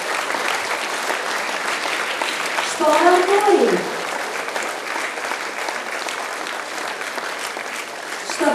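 An audience at a youth awards event applauds in steady, moderately loud clapping throughout, with a voice speaking over it and announcing names, and a brief louder swell in the middle.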